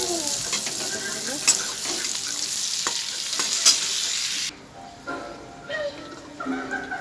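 Pointed gourd frying in a pan of oil, a close, crackling sizzle with stirring that drops off abruptly midway, leaving softer scraping and faint kitchen sounds.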